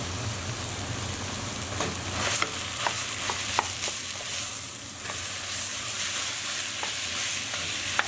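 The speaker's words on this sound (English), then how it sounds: "Now we just want to brown our meat at this stage." Half a kilo of lamb mince with ground ginger and bay leaf browns in a hot pan, giving a steady close sizzle and frying crackle with occasional sharp pops and stirring scrapes, and no voices.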